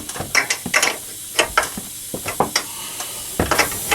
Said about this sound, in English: now we're going to remove the 3 nuts holding the top of the strut